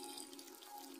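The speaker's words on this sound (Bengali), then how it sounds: "আর একটু জল দিয়ে দিচ্ছি" A little more water pours into a pan of cooking sago, making a faint, brief splashing trickle on its own.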